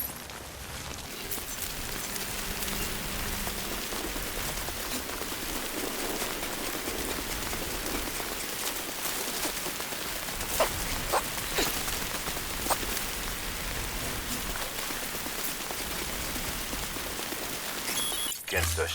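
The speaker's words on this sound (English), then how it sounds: "Don't stay out in the rain any longer than you have to." Steady rain pours down across the whole scene in the video game Death Stranding, a dense hiss with scattered drops and a few sharper taps, while someone talks now and then beneath it.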